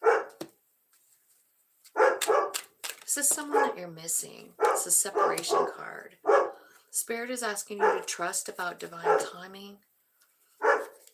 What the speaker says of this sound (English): Sorry about the dogs, you guys.